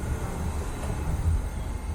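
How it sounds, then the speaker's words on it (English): Steady low rumble inside a train standing at the station before departing for Brussels from Bruges, Belgium, a continuous muffled hum with no voices, even and close throughout. "So I'm now on the train back to Brussels, and we are leaving in a few minutes."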